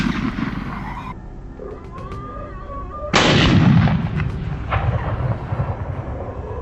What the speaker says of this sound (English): I immediately opened fire and took down the first wild boar